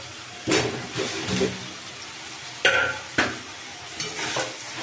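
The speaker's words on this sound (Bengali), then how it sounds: "এর মধ্যে আমি ভাজা আলু আর এঁচোড়গুলো দিয়ে কষবো।" Fried potatoes and jackfruit being stir-fried with cooked-down spices in a pan, loud sizzling with several sharp scraping stirs at irregular intervals, close by and without talk.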